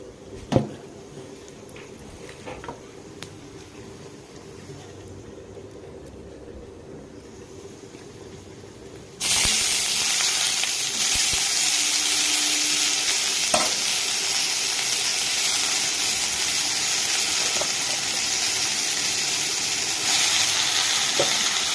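Chopped khosda greens hit a hot pan and break into loud, steady sizzling and frying hiss about midway, after a quieter stretch with faint stirring and clatter, with no talk.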